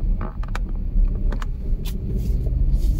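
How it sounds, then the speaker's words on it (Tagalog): Road traffic on Route 8 in San Fernando, slowed by roadworks on a weekday morning: a steady low engine rumble of nearby cars with occasional brief clicks and hisses, no talking. "Yan po ang traffic ngayon dito sa San Fernando."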